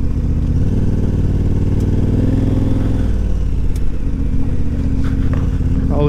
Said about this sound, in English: Get this rowdy bike out of here.